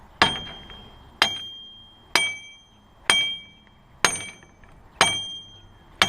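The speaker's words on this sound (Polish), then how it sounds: "Trzeba wziąć młotka." Six sharp hammer strikes ring out at a steady pace, about one per second, during concrete formwork on a house build site. Each has a metallic clink that fades quickly. No one speaks.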